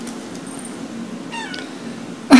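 A cat called Laser Kitty gives a short meow, faint against a steady low hum, followed by a louder sharp burst at the end.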